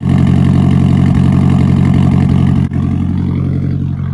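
A car engine running on E85 fuel idles steadily and loudly up close, a deep even rumble with a slight dip partway, then continues alone with no talk.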